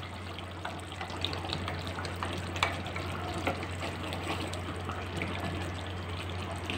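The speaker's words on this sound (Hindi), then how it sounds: "जल्दी जल्दी से क्रीम को डाल के चमचा चलाना है।" Cream poured into a pot of hot chicken handi broth and stirred with a spoon, a steady wet sloshing and liquid rush that runs continuously with small clinks, close and alone without any voices.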